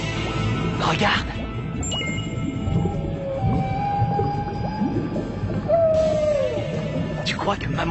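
A voice imitating the cry of a baby mermaid, giving drawn-out, wavering whale-like calls that rise and fall over a steady watery background, with brief sharp sounds near the start and end.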